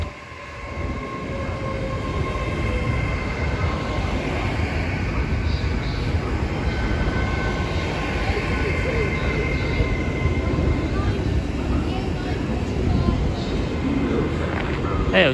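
A train at Exeter St Davids station rumbles steadily and loudly for the whole stretch, a continuous low engine and rail drone with no clear breaks.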